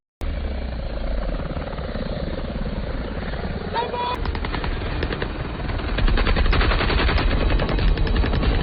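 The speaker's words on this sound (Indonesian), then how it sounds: "Mereka pun menembaki helikopter tersebut." Rapid bursts of automatic gunfire aimed at a helicopter in an action film, crackling over the steady roar and thrum of rotor blades, with the shooting growing denser and louder toward the end.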